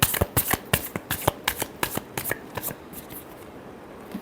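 Tarot cards are shuffled by hand, with a quick run of crisp, close riffling taps that tapers off over a few seconds. No one talks.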